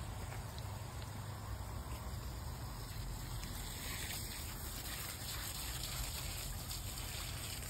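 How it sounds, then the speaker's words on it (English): A steady, continuous rush of water flowing from the hose of a 1/4 HP submersible swimming pool cover pump, close and fairly loud, with an even broadband hiss and low rumble throughout and no voices. "Look at that flow of water."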